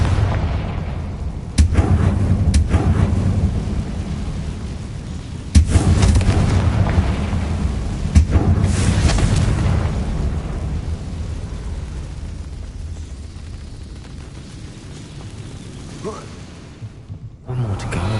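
Confringo spell explosions in the video game Hogwarts Legacy: several deep booming blasts over a rumbling, mechanical game soundscape, loud and close, with speech mixed in.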